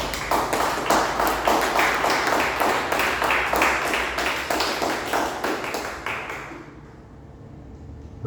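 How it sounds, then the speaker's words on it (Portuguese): A church congregation claps in a steady, rapid rhythm for several seconds, loud and close, before the clapping thins out and fades to near quiet. "Você pode aplaudir, Senhor?"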